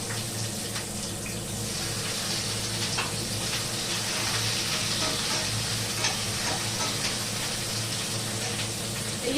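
Onions sizzle steadily in a hot pan in a home kitchen, a continuous hiss with faint scrapes, with no talking.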